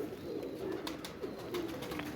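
A pet pigeon coos softly in a few low, rolling calls against a steady background hiss, with no talking.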